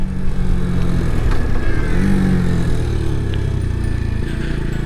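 Brixton Rayburn 125 motorcycle riding, its small single engine droning and revving loudly up close with wind rush and slight rise in pitch, continuous and alone without talk.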